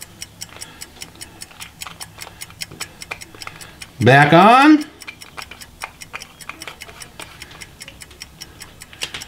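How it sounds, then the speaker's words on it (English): A faint, steady ticking like a small watch runs throughout with speech over it, interrupted midway by a brief loud rising whistle-like sound. "if you could hear it, you would hear tick, tick, tick, tick, tick."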